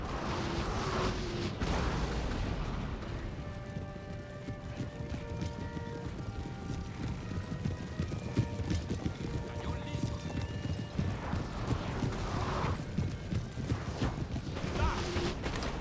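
Cavalry hooves clip-clop in a busy stream in a Napoleon Total War battle, mixed with distant gunfire and battlefield clatter, while a voice talks over the top.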